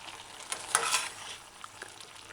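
A pot of simmering coconut milk stew with red cabbage and broccoli is stirred. There are faint bubbling and sizzling sounds, and a few scraping strokes stand out.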